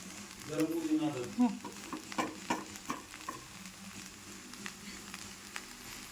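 Poha with peanuts and turmeric is stirred in a frying pan, giving soft scraping and a light sizzle, with a voice talking briefly at the start before the stirring continues quietly.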